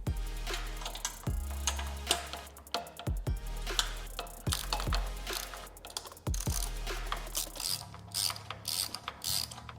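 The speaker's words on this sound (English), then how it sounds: "we'll get the ratchet and the universal on it" A ratchet fitted with a universal joint clicks rapidly while loosening a bolt on a Yamaha MT-09 motorcycle, coming in close bursts of fast pawl ticks with short pauses between strokes.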